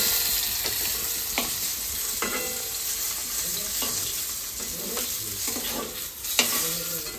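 Fish frying in a pan: a steady, close sizzle with scattered sharp spatters and the scrape of stirring, and no voices.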